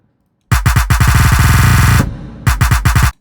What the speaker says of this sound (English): Now I should only hear that percussion.